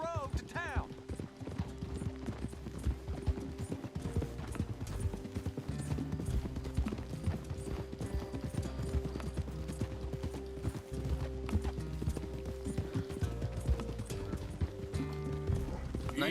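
Horse hooves clip-clopping in a steady trotting rhythm in Red Dead Redemption 2, with creaking tack and game music and ambience underneath, continuous and fairly close, while a voice talks over it.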